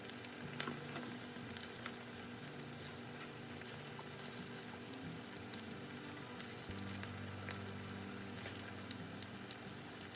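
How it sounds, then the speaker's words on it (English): Eggs fry in a pan with a steady, soft crackling sizzle that runs evenly throughout, with small pops scattered on top and no talking. "so just cook them until everything is no longer wet looking with your eggs"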